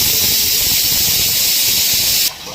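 Oil heats in a pan with chopped green chillies in a home kitchen, giving off a loud, steady hissing sizzle. It continues unbroken, then drops suddenly to a quieter hiss near the end.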